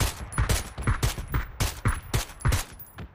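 Gunfire in the battle royale game PUBG: a rapid, evenly spaced burst of about a dozen close, punchy shots over three seconds, with no talk over them.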